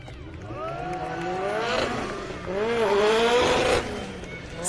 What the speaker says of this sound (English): Sounds amazing, that MX-5.